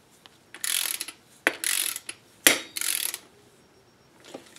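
A ratchet clicks close up while valve cover bolts on a Honda Odyssey are torqued to spec, coming in three short bursts of rapid pawl clicking with brief pauses and small clanks between them.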